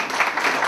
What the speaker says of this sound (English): Let's first give Rage a round of applause for putting the form together.